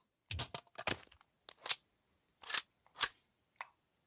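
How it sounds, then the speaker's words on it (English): Pistol reload in the VR shooter Pavlov Shack: a series of sharp, close mechanical clicks and clacks in quick irregular bursts, with short silent gaps between them and no voice. "So let's go through the reload process here."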